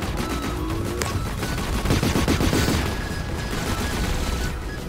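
Robot weapons in the War Robots video game fire a dense salvo against a Phantom robot, a continuous loud barrage of overlapping gunfire and blasts that swells in the middle and runs throughout, with no talking.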